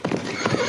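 A horse neighs and whinnies close by while hooves clip-clop beneath it, a short burst of animal sound with no talking.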